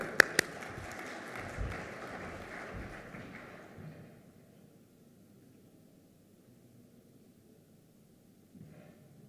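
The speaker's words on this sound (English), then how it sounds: "let's give him all a round of applause." Applause for a panel moderator at a digital twin and AI conference, a moderate burst of clapping with a few sharp near claps that fades out by about four seconds, leaving quiet room tone.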